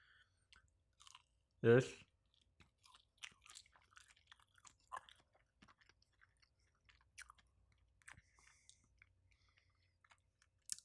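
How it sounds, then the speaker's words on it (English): Close, quiet chewing of Buffalo Wild Wings food, beginning with one loud crunchy bite and followed by soft, irregular mouth sounds and smacks, with a voice talking intermittently. "Trying to make sure I chew it properly,"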